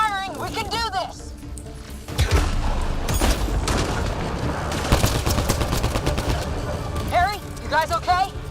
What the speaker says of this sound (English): Just keep firing!